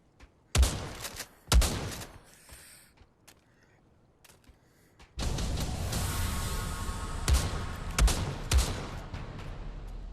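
UMP submachine gun fired one-handed like a pistol in a video game: two sharp single shots, then after a short lull a loud sustained burst of gunfire with repeated cracking reports over a dense rumble.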